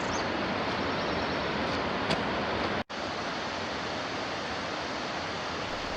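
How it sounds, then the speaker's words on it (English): A river at Indian Springs State Park in Georgia flows with a steady, dense rushing wash that barely varies, broken once by a momentary dropout. "I can hear the river."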